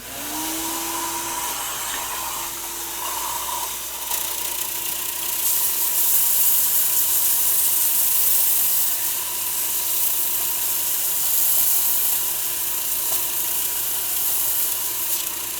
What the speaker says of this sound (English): So I'm going to turn on the shop vac. It's going to make a lot of noise